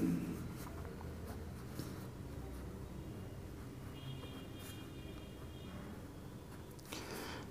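Pen or marker scratches quietly across a surface as a formula is written by hand, a series of faint irregular strokes in a quiet room with no talking.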